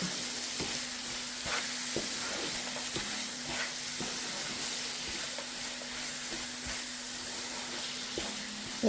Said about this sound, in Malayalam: നമുക്കിതെല്ലാം കൂടെ ഒന്നിച്ചിട്ട് മിക്സ് ചെയ്തിട്ട് എടുക്കാം